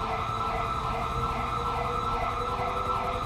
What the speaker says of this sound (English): you left your siren on, man